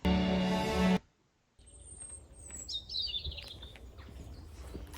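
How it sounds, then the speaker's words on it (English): Birds chirp and sing faintly over outdoor countryside ambience on a Cotswold Way hiking trail in England, scattered high calls after a short burst of other sound and a brief silence. "Can you hear the birds?"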